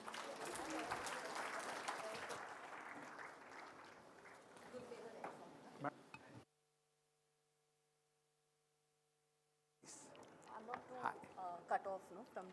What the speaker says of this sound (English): Let's have a big round of applause for her.